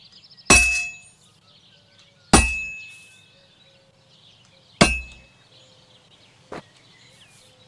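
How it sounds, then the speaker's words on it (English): A hammer rings against a sword on a blacksmith's anvil in Kingdom Come: Deliverance II, three loud, sharp metallic clangs spaced a couple of seconds apart, each decaying slowly, followed by a fainter fourth tap. "Now take the hammer and try hitting it a few times."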